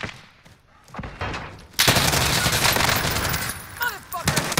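Rapid bursts of automatic gunfire in a first-person shooter video game, loud and close, sustained for several seconds after a quieter lead-in, with a few sharper shots near the end.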